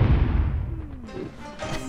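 An artillery gun fires in the video game Frontschweine, a heavy low boom that decays over about a second, followed by fainter rumble and tonal game effects.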